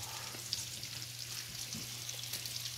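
Food fries in a pan with a soft, continuous sizzling hiss and faint crackles, quiet and close, over a low steady hum, without voices.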